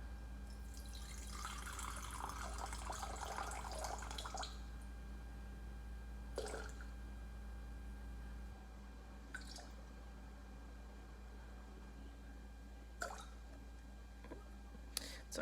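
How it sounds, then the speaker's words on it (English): Filtered tap water pours into a jar in a home kitchen for a sourdough starter, a close, splashing trickle lasting a few seconds, followed by quiet with a few scattered clicks and knocks. "I just have water from my filtered tap"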